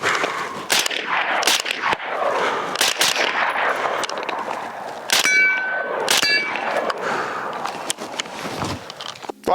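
Rifle bullets from a Springfield Armory Hellion bullpup rifle striking a steel target at 100 yards, heard up close as loud, sharp metallic clangs and dings in a fairly quick, irregular series, with ringing tails and distant shot reports behind them.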